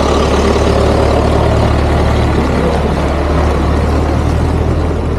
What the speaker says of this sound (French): Et puis un tracteur.